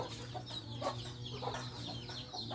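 A black mother hen clucks in short, repeated bursts over steady farmyard background noise, fairly close and continuous.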